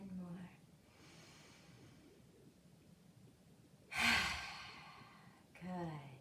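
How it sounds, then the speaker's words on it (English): Preschool children taking deep breaths together during a calm breathing exercise, slow soft inhales with a louder, breathy exhale near the end, faint and close, with a brief voice at the start. "another deep breath in."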